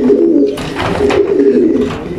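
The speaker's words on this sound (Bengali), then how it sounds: "এটা আমার একটা পুরনো মাদি কবুতর" An old female pigeon, the bird unable to hold its neck straight, cooing close and loud in low, continuous throaty rumbles.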